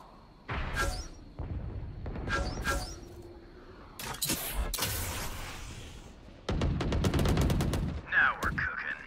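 Rapid gunfire from the Valorant video game, with single shots early on and then a fast burst of automatic fire, loud and close, with bangs and effects between, and a voice briefly speaking.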